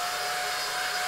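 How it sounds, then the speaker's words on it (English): A supersonic dryer blows in a children's cartoon, a loud, steady whooshing whir with a constant tone that stays even and close from start to finish. "There's a supersonic dryer."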